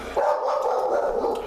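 A pet dog indoors lets out one sustained, loud, whining bark-howl toward the front window, heard close and alone for over a second.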